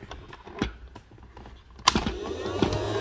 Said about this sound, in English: Let's turn the Hoover on first.